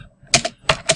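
A computer keyboard clacks as code is typed, four quick keystrokes in an uneven rhythm, close and crisp with no voice over them.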